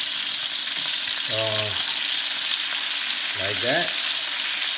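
Lemongrass chicken frying in a pan gives a steady sizzle throughout, with two short bursts of speech layered over it.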